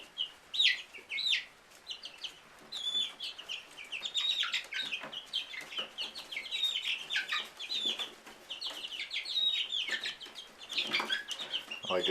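Five-week-old chickens cluck and chirp steadily at close range while pecking and spinning a corn cob hung on a string, with soft tapping pecks scattered through the busy, continuous chatter.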